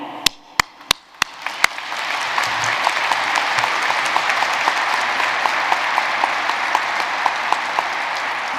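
At a university commencement ceremony, a few loud single claps ring out before a large audience breaks into dense, sustained applause that carries on steadily.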